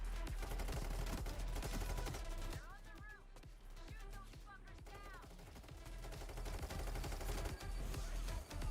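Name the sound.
player gunfire in Payday 3 video game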